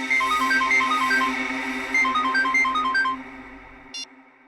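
A telephone ringtone plays a repeating electronic melody loudly for several seconds over a low background hum, ending with a short tone burst.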